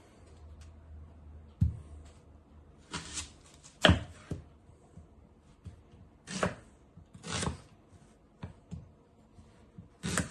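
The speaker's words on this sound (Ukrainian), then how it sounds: "Нарізаємо нашу цибульку" A knife chopping onion on a board for pork shashlik, irregular bursts of sharp cuts and thuds, several quick strokes in clusters separated by quiet pauses, close and clear with no talking.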